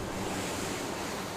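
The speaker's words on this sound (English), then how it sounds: "So you can see it's pretty windy here." Strong wind and rough sea surf roar steadily during a TP52 sailing race off Cascais, a broadband rush with wind buffeting the microphone throughout, no voices.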